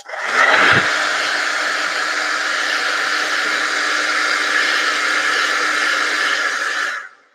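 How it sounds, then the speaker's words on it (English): Steady loud whoosh of a blow dryer warming cold surface wax, running continuously for about seven seconds with a brief stronger gust at the start before it cuts off, no talking. "So I'm going to use my blow dryer."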